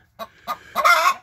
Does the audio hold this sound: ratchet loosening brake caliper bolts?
no